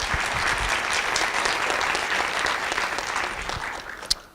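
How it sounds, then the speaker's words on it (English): Sustained audience applause at an evening city cannabis town hall in Davis, a dense steady wash of many hands clapping, loud and continuous, tapering slightly near the end with one sharp clap. "Can we do another round of applause for all of our presenters tonight?"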